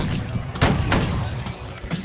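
Gunfire in the video game Battle Cry of Freedom, with loud booming shots in quick succession over a dense, noisy battle din.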